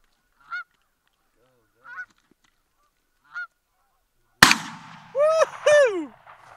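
Canada geese honk in the open during a hunt. A few short, faint calls sound far off, then a sharp gunshot cracks, followed by a burst of loud, close honking.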